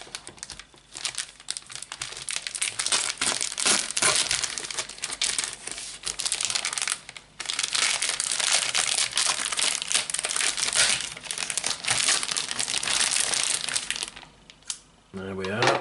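Scissors cut open the plastic seal on a Topps Bundesliga 2019/20 sticker starter pack, a close, continuous crinkling and crunching of plastic with a brief pause midway.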